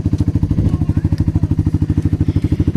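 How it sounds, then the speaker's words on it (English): A four-wheeler ATV engine runs close by, with a loud, steady, rapid putter of even pulses throughout. "here's the four-wheeler"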